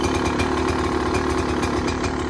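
A GasGas 300 motorcycle engine runs loud and close with a raspy, rapid two-stroke buzz, steady throughout without pauses.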